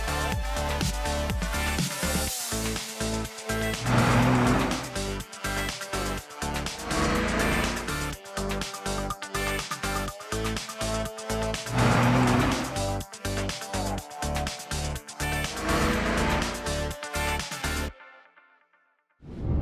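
A Ferrari Testarossa engine revs hard and repeatedly through gear changes while driving, rising and dropping in pitch with brief lifts between shifts, loud and close, then cuts off.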